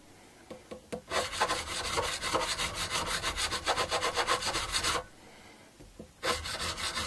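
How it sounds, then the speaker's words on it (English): Guitar frets on a superstrat being polished, a close, steady rhythmic rubbing rasp with brief pauses, loud and continuous for several seconds, stopping, then resuming near the end. "the polishing is the sort of final stage in preparing the frets"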